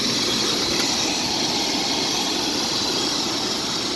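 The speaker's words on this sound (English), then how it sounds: "And that's the engine. Runs good." A car engine with a rebuilt fuel distributor and new alternator runs steadily at idle, giving a constant, even hum with no talking over it.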